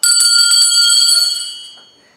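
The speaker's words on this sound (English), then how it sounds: "I'm going to encourage you to ring the bell" A bright bell sound effect rings out loud and close, a single sustained metallic ring that holds for over a second and then fades away.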